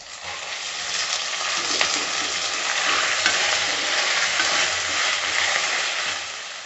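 A quarter kilo of chicken sautés in hot oil with curry leaves and a little turmeric, giving a loud, steady, close sizzle with scraping stirs and faint clinks, and no talking.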